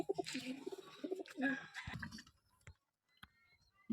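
Soft coos and murmurs from young pigeons on a standing perch in the first half, close but quiet, followed by near silence broken by a few small clicks and taps.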